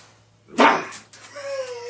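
A dog gives one loud, close bark, followed by a drawn-out whining whimper, with a brief human sound in between.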